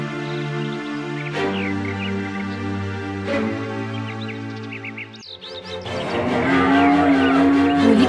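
Cows mooing in a story sound effect, with long, deep, harmonic lows, several in succession, and chirping birds in the background that grow busier toward the end.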